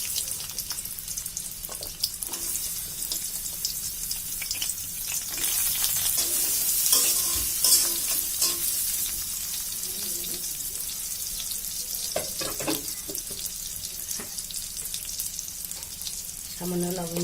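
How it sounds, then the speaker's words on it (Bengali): Boiled jackfruit seeds fry in a mix of white and mustard oil, a continuous sizzle with occasional stirring clatters and scrapes, swelling briefly in the middle, with no talk. "সিদ্ধ করে রাখা এই কাঁঠালের বিচিগুলো আমি ভাজি করে নেব।"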